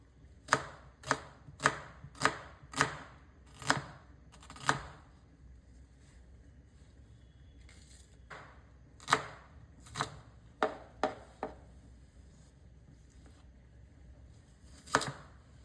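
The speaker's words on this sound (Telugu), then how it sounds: "ఆనియన్స్ని పొడుగ్గా హాఫ్ మూన్ లాగా కట్ చేసుకుంటున్నాను" Onions sliced lengthwise into half-moon pieces on a board for egg fry, with sharp knife chops landing in an even run, a pause, then a few more cuts, close and distinct with no talk.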